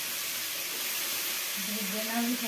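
Cauliflower and green beans fry in a pan with a steady broadband sizzle and hiss that stays fairly even throughout, with a brief tonal sound near the end.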